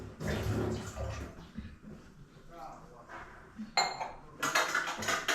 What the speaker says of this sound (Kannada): ನೀರು ಹಾಕಿ ನೀರೆಲ್ಲ ತೊಳಿ ಅಂತ.